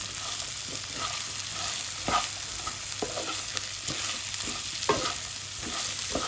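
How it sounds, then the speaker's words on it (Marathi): Okra stir-fried in a salted pan gives a continuous close sizzle, broken by regular spatula scrapes roughly once a second, with no speech. "आणि आता टाकून घेऊयात भेंडी आणि छान परतून घेऊयात"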